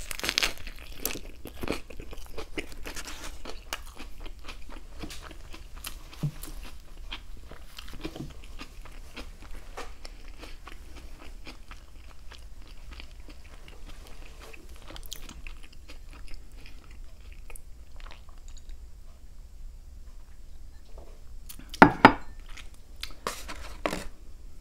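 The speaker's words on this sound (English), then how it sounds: "You hear that crunch on the lettuce?" Lettuce crunches inside a popcorn chicken sandwich during a long run of close biting and chewing, with frequent crisp crackles and a couple of louder crunches near the end, and no talking.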